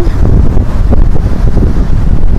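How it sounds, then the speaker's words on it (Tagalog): Strong typhoon wind at Nasugbu, Batangas roars and buffets the microphone in loud, continuous, rumbling gusts, close and overwhelming with no other clear sounds. "pati yung tingnan nyo sa lakas ng hangin ng bagyo"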